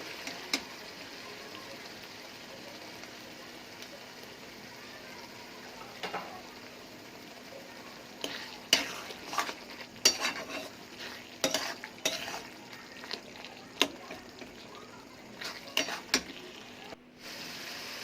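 Spice masala for a chicken curry frying in oil as it is stirred, a soft background sizzle broken by irregular scraping and clinking strokes of a utensil against the pan, growing busier after the first few seconds.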